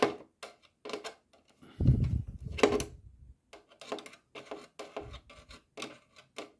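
A small screwdriver working on a 1971 Plymouth Duster 340 ERTL 1/18 die-cast model car, giving close, intermittent scraping and rasping strokes with brief gaps and a low thump or two.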